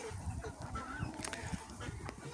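Chicks crowd a tiered transport cage where they roost at night, peeping and chattering continuously and fairly close, with overlapping calls and no clear pauses.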